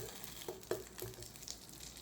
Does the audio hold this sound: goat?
no